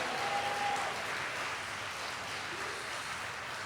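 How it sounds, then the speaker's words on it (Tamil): Congregation clapping hands during a church service, a soft, continuous wash of distant clapping with no clear individual claps. "அப்பாவுடைய நாமத்துக்கு கைதட்டுங்க"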